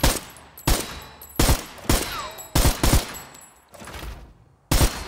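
Bursts of gunfire from the shooter game Arena Breakout crack out in short, loud volleys of two or three shots, separated by brief pauses, with no talking.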